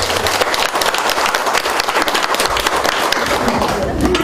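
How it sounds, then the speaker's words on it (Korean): A crowd in a hall gives loud, continuous applause, a dense clatter of clapping hands that stays steady throughout, with a little talking mixed in. "박수 한번 드리겠습니다"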